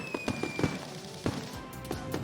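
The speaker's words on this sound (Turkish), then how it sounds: "Süper kamyonu çağırmak için havai fişek kullanacaksın." Fireworks go off in a cartoon, a series of sharp, irregular pops and crackles spaced over a couple of seconds against a steady background bed.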